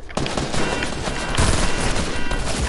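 Rapid gunfire from a PS4 first-person shooter, a dense, continuous volley of close, loud shots with sharp cracks layered over each other for the whole stretch.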